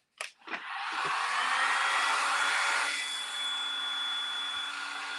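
A hair dryer blows a steady, loud whooshing hum while drying paint on a birdhouse, starting after a few brief knocks and running continuously, with no talking.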